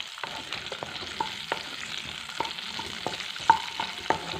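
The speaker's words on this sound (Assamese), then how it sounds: "এনেকৈ কেপচিকামখিনি অকণমান ফ্ৰাই কৰি ল'ম।" Capsicum pieces fried in a pan for kadai paneer, with quiet sizzling under frequent light clicks and scrapes of a spatula, nearby and fairly soft.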